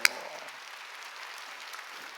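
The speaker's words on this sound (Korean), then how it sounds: "박수 세게 치라니까." Congregation at a Sunday church service breaks into applause, a brief sharp burst followed by steady clapping that continues for a couple of seconds in a reverberant hall.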